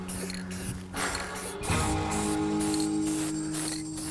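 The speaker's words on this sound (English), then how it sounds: "Sometimes a little spray paint is all you need." Steady hissing bursts from a spray paint can, several long sprays broken by short pauses, loud and close with a faint rattling texture and no talking.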